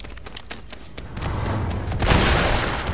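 Video-game gunfire in a dense, continuous volley of rapid shots, loud and close, swelling stronger toward the end with no voices over it.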